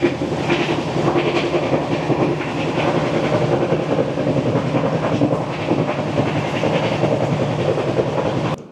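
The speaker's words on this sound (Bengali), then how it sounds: "আমাদের ট্রেন ছেড়ে দেবে হীরাকুদ স্টেশন" Sambaleshwari Express pulling out of Hirakud station, a steady loud rumble of wheels with rhythmic clickety-clack over the rails, carriage hiss and rattle continuing throughout before cutting off abruptly at the end.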